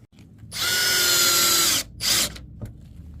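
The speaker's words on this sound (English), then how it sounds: "Put some screws in." A power drill driving screws into the ceiling fittings of a vintage bus conversion: one long high whirring burst, then a shorter second burst and a faint click, close and fairly loud.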